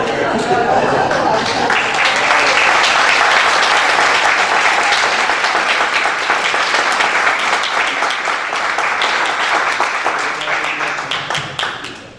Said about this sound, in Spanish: Aplaudimos todos.